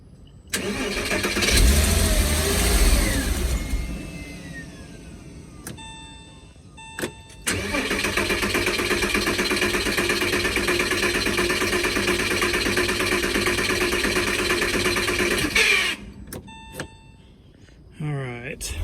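A Porsche Boxster project car cranks over, briefly catches and fires, then cranks again at length before stalling, with sharp popping misfires and backfires punctuating the sputtering engine at close range.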